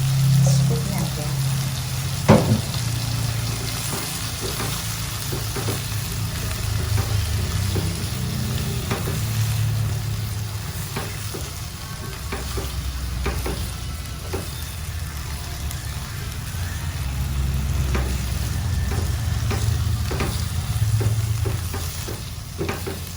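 A broccoli and wood ear mushroom stir-fry sizzles as water is added, a continuous frying hiss with scraping and stirring knocks running throughout.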